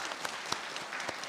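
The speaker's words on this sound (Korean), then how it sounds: "박수 한번 하겠습니다." Scattered applause from a small church congregation during a Sunday service, a brief patter of claps with a few louder individual hits.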